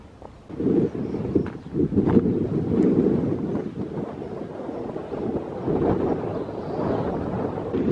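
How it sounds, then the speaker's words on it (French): Wind gusting across a hilltop above the medina of Tetouan, Morocco, a steady low roar buffeting the microphone in surging waves, loud and close, with no speech. "Il y a pas mal de vent ici là sur les hauteurs."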